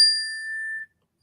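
A meditation bell struck once, giving a single clear, bright ring that fades over nearly a second and then stops abruptly into silence.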